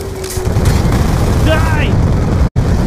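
Gunfire and explosions fill a battle in Call of Duty Black Ops 2, a loud, dense wash of shots and booms running throughout with voices shouting over it and a brief dropout near the end.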